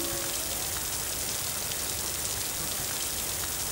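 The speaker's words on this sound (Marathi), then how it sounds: "पाऊस कमी होतोय." Dense, heavy rainfall pattering steadily and loudly on surfaces nearby, an unbroken wash of drops with no voices.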